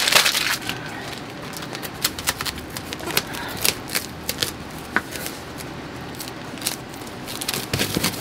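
Backing paper is peeled off an adhesive shipping label on a cardboard box for live reptiles, giving a close, dry, crinkly tearing rustle with sharp crackles scattered through about eight seconds.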